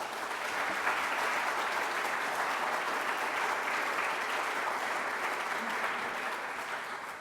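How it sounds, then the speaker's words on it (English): An audience at Woodstock, Illinois's 2025 State of the City address claps steadily for several seconds, a dense even wash of applause that fades slightly at the end. "So please give them a round of applause."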